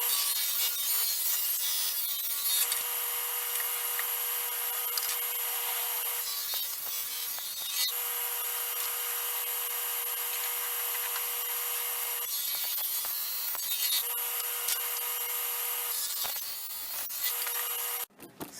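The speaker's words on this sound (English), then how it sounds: "I'm going to now rip off the tongue and the groove from the old flooring" Old tongue-and-groove wood flooring being ripped along its edges to strip off the tongue and groove, a steady loud high-pitched cutting roar that runs almost without break, with brief dips, for the whole stretch.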